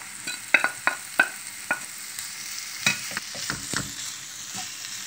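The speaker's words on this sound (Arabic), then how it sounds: "أضيف الفاصوليا المسلوقة، اللوبيا المسلوقة،" Spoon stirring boiled beans, black-eyed peas and spices in a frying pan, with steady sizzling under a run of scraping strokes and clinks against the pan.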